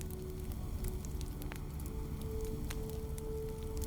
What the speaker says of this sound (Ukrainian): Дубові дрова періодично потріскують, розсипаючи маленькі іскри, які одразу ж згасають.